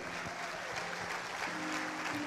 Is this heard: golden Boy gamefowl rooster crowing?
no